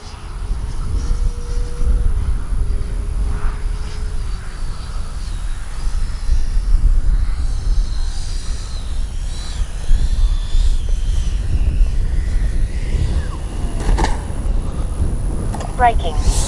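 Freewing 90mm J-10 RC jet on landing approach, a steady loud ducted-fan whine under wind noise that continues throughout, with no pause or fade.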